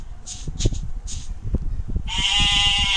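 Sheep bleat in a video game, several short bleats spaced apart, then a longer harmonic tone rises at the end over low background rumble.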